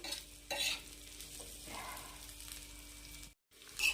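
Green chillies for a spicy masala fry being tossed in a pan, giving a quiet continuous sizzle with occasional soft spatula scrapes, briefly cut off near the end before resuming; no voices.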